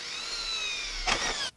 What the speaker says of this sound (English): somewhere in the middle, I'm going to just drill a hole into the center.